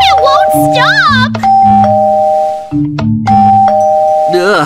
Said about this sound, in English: It keeps ringing the doorbell!